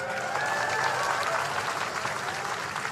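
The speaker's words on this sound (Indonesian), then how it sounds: "Tepuk tangan semuanya, keren." An audience at an event featuring Brimob police claps together in sustained, dense applause, a loud, even wash of hand claps with a faint murmur of the crowd underneath.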